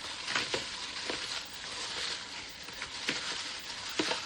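Raw fish is stirred by hand with mustard, egg and hot sauce, giving soft, wet squelching and slapping sounds that recur every second or so over a faint steady hiss.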